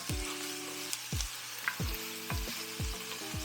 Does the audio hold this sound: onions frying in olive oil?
yes